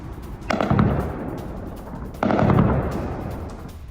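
Air defence guns firing in Tehran near the nuclear energy organisation's office: two heavy bursts of rapid gunfire, each booming out and trailing into a rumbling echo, heard at a distance.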